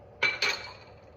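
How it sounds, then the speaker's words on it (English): A whisk clinks against a bowl while hot liquid is whisked into four egg yolks for banana pudding, two quick, bright metallic taps close together followed by quiet. "We're just whisking."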